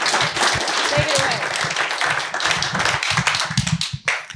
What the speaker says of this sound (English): Big round of applause for you, Darren.